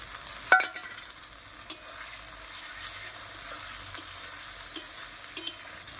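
Spices, ginger and cumin frying in a pan for a meat curry give a faint, steady sizzle, broken by a few sharp stirring clicks and taps. No one speaks.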